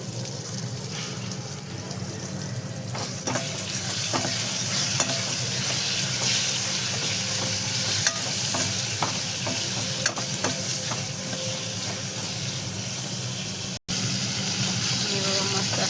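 Prawns frying in masala in a pan, giving a continuous dense sizzle with scattered scraping stirs throughout, close and steady, broken by one very brief dropout near the end.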